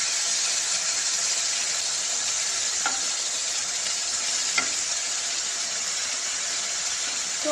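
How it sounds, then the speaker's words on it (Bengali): Shrimp fry in a pan with a dense, even, loud sizzling hiss that holds throughout, marked by only a couple of faint clicks and no voices. "তো আমি চিংড়ি মাছগুলো ভেজে নিচ্ছি"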